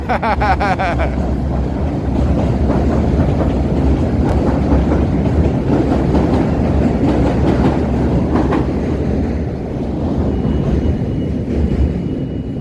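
A Chicago train rumbles along the tracks with a loud, close, continuous roar and rattling clatter that fills the whole stretch, with a brief squeal near the start.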